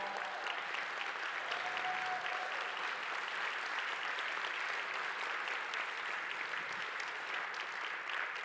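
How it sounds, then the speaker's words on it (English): A standing audience at a Martin Luther King Jr. Day ceremony applauds a high school group, a broad, even wash of clapping that holds steady at a moderate, slightly distant level. "give them a round of applause"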